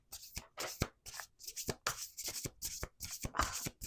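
Cards are shuffled up close in several quick bursts of riffling and soft flicks, short and uneven in rhythm.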